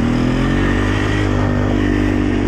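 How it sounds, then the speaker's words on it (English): A Polaris Sportsman ATV running flat out in high gear and two-wheel drive across a field, a loud, continuous, close engine drone with a steady high-revving pitch and no talking. "We're gonna try to see how fast this thing can go"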